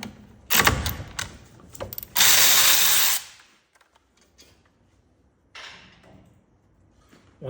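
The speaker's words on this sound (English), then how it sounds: "the first thing we're gonna do is take out this lower caliper bolt" Power tool loosening the 14 mm lower brake caliper bolt on a Toyota Corolla: short ratcheting bursts, then a loud sustained whir lasting about a second, followed by quieter clicks and a faint brief burst.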